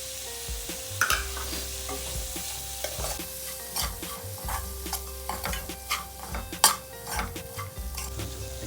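Grated coconut and rice mixture for masala chitranna frying in a pan while a spoon stirs it, with a steady close sizzle and repeated scraping and clinking strokes across the whole stretch.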